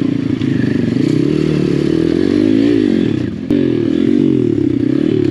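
A Chinese dirt bike engine drones loudly on a hard enduro ride through a swamp, a close, continuous buzzing note that dips and rises as the throttle shifts, with a sharp knock partway through.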